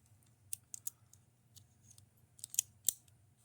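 Scissors snip in a quiet indoor space, faint crisp clicks scattered irregularly, a few in quick pairs, over a low steady hum.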